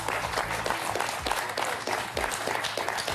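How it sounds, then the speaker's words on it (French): On the French game show Questions pour un champion, the studio audience claps in a steady, even burst, with a faint low tone running beneath the early part. "Ça s'applaudit."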